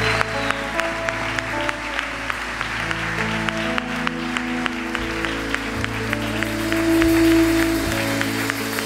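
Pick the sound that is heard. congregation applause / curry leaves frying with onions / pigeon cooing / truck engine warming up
congregation applause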